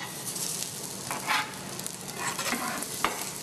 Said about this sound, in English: They'll sizzle up really good.